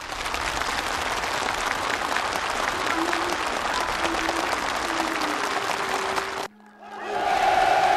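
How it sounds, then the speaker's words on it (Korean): A large crowd applauds steadily and loudly for several seconds, the dense clapping cutting off abruptly before a brief different sound takes over. "참가자들의 열렬한 박수"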